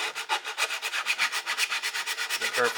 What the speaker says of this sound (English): It's a sanding stick or like a nail file, emery board, whatever.